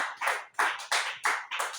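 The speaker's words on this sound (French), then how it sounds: "Applaudis pour le Seigneur." Rhythmic congregation clapping at a church service in a steady beat, about five loud claps in under two seconds, many hands striking together.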